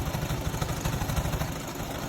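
Sewing machine stitching slowly through four layers of fleece for a stretch slouchy hat: a steady, close, low mechanical whir and rapid needle chatter that runs without a break, with no voices.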